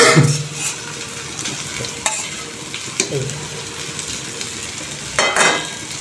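Fish and tomatoes frying in a pan as they are stirred, with a steady sizzle broken by scraping spatula strokes and a few sharper clinks against the pan, close and moderately loud, no talking.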